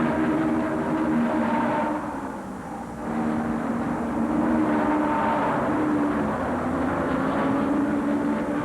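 1972 USAC championship race cars roaring out of turn four at the Michigan 200 restart, a dense sustained engine drone that dips briefly then swells again, heard from trackside without speech.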